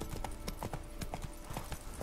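Hooves of a galloping horse in The Witcher 3 drum in a rapid, steady rhythm, a continuous run of clip-clop beats at moderate loudness.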